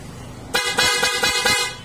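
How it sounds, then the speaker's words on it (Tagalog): A newly installed PIAA horn on a Honda Jazz blasts repeatedly in short, loud honks, about five in quick rhythmic succession, close by. "Try natin yung busina."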